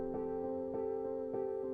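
A Cubase chord-pad preset in Beautiful Mind pattern mode plays soft sustained synth chords with a steady rhythmic pulse of repeated attacks, quiet and clean with no voices.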